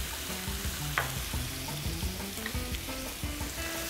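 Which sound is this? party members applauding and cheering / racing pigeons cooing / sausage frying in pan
sausage frying in pan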